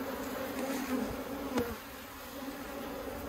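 A close swarm of honeybees buzzing loudly as they are shaken off a hive frame, with a dense, wavering drone and a brief knock partway through.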